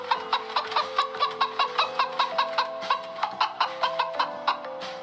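A hen and her chicks cluck and peep in a quick, regular run of short calls over a steady musical backing, with no talking.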